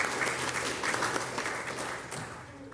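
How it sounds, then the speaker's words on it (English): An audience at a trails summit gives sustained applause, dense and even, fading slightly toward the end. "we need to give him a round of applause, please"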